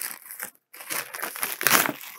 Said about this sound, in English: let's rip her open